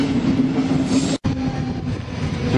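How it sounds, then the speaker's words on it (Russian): A train pulling into Vesterport station in Copenhagen, a steady loud rumble of rail cars with a low hum, briefly cut by a moment of silence before the rolling noise resumes; no talking. "Ну что, это наш поезд."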